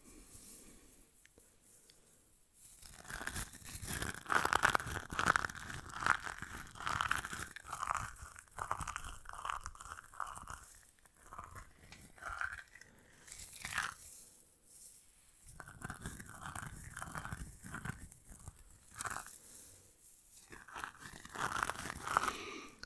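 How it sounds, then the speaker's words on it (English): Crunchy plastic hair beads are handled close to the microphone, giving steady crackling, crinkling and clicking textures that rise and fall in intensity throughout. "the crunchy hair beads"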